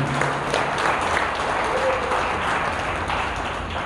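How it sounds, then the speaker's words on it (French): A church seminar congregation applauds in a steady, dense wash of clapping that fills the room, close and continuous with faint voices mixed in. "Acclamons Dieu pour ceux qui ont reçu déjà Jésus."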